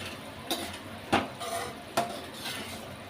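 Lentils mixed in a cooking pot, with a few soft spoon knocks and clinks against the pot spaced over a faint background, quiet and close.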